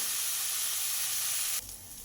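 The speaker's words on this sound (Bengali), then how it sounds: "মাঝে মাঝে এইভাবে নাড়াচাড়া করে শাকটাকে ভেজে নিতে হবে" Susni saag greens fry in a pan and get turned now and then, making a steady, close hiss of sizzling that drops in loudness near the end, with no talk.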